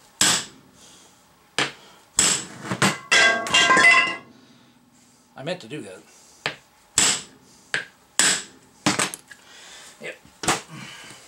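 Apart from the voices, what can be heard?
hammer striking metal cap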